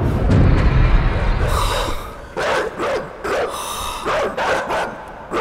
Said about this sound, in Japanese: 地獄の番犬ケルベロス